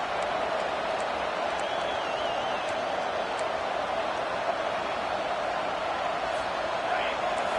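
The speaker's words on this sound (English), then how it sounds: "And this crowd coming to life here, trying to help the defense get a stop" Football stadium crowd in a video game, a steady dense roar of cheering that holds at an even loud level throughout, with no clear voice standing out.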